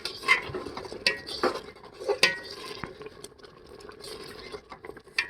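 A spoon stirs payesh, a Bengali rice pudding with raisins, in a pot, making scattered metallic clinks and scraping taps at a soft, close level.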